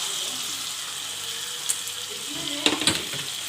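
Marinated chicken liver hits a hot pan and sizzles with a soft steady frying hiss, followed by a few sharp clatters and splashes as pieces drop in.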